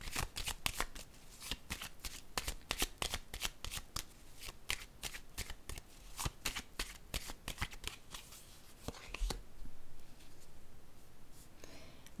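Tarot cards are shuffled and laid out in a quick run of crisp, close riffling and snapping taps, then settle into a few softer slides and placements near the end.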